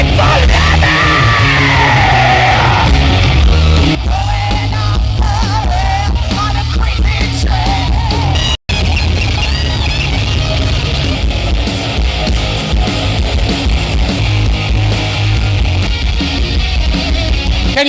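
A crowd at a tribute event for Lemmy yells and whoops loudly, a dense, sustained roar of screaming voices with a brief cutout partway through.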